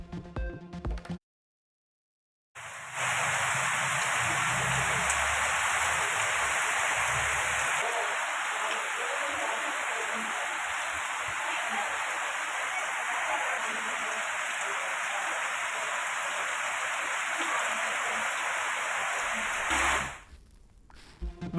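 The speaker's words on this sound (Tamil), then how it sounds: "அதிகாலையில் இருந்து மழை பெய்து வரும் நிலையில்" Steady, dense hiss of rain falling continuously at a constant level, broken by a brief silence near the start and ending abruptly, with no voices over it.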